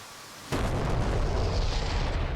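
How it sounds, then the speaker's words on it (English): A GBU-54 laser-guided JDAM bomb slams into an APC in the DCS World flight simulator, a sudden loud blast at half a second followed by a sustained, rumbling roar that fills the rest of the moment with no talk. "The bomb is now striking the APC."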